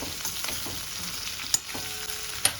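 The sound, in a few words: sizzling gunda, mango and chili relish cooking in pan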